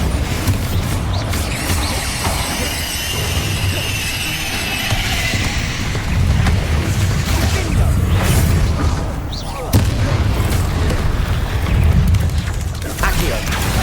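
Bombarda and Confringo spell explosions in Hogwarts Legacy, loud repeated booms and mechanical thuds mixed with whooshes during a dragon fight, with a voice talking throughout.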